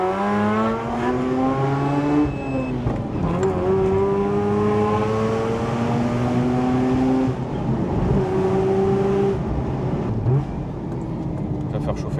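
Mazda RX-8 with a tuned rotary engine accelerating hard along a straight, its high-revving engine note climbing and dropping through gear changes, loud and close throughout with someone talking over it.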